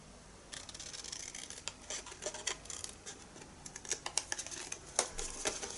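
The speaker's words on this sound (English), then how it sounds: "cut all the way up that score line, and then cut the whole of that piece away" Scissors cut along a score line in card stock for a Christmas advent carousel, a quick, close run of crisp snips and clicks that grows denser toward the end, with no voices.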